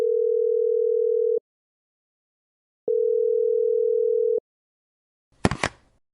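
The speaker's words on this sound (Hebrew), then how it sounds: "החליט להרים טלפון לשלומי, חבר ותיק מהעיר בית שמש." A telephone dial tone sounds in two long steady beeps separated by a pause, followed by a brief clattering noise near the end, with no voices.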